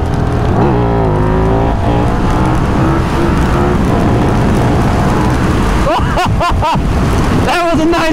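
A 2024 KTM 1390 Super Duke R EVO motorcycle accelerates hard on a race track in third gear with wheelie control off, its engine loud and continuous, rising in pitch through gear changes with wind noise throughout.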